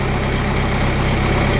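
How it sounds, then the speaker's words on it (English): A tractor engine idles on a dairy farm with a steady, loud, low rumble that continues without a break, close by and with no voices over it. "So we're gonna put tractor under the manure elevator."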